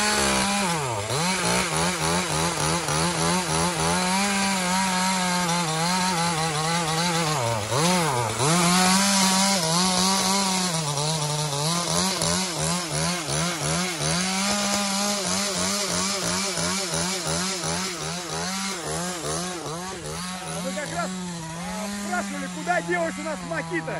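A Makita chainsaw cuts through wood, its engine droning loud and close with wavering pitch as it bogs and revs through the cut, running continuously for the whole stretch.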